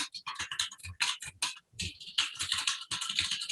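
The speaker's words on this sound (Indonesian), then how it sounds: "lagi ngetik-ketik nih" Fast, steady typing on a computer keyboard, a dense run of close clicking keystrokes with no pauses and no talking.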